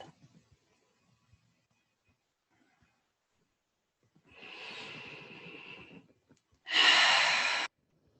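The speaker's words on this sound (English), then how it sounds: "Let's take a breath." A person takes a slow, deep breath during a calm yoga session: a soft, drawn-out inhale through the nose, a short pause, then a louder, breathy exhale, close up with no talking.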